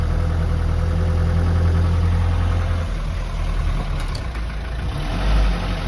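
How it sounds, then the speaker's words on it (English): Mercedes camper engine running while driving, a steady low rumble and drone heard from inside the cabin, constant and moderately loud throughout with no voices. "considering the engine's there, it's not that loud."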